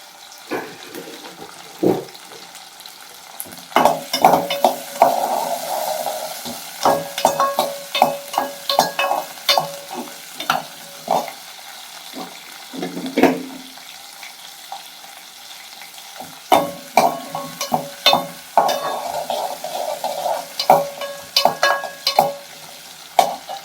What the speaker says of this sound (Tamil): வெங்காயமெல்லாம் நல்லா வதங்கட்டும்